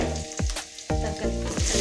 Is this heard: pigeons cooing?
no